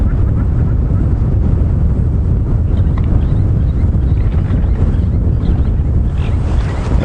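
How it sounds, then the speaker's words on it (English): Strong wind gusts across open water at a game reserve, a continuous loud low roar with heavy microphone buffeting throughout. "you can see how the wind really is gusting, blowing the water towards us"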